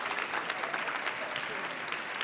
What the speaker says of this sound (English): Give yourselves all around applause.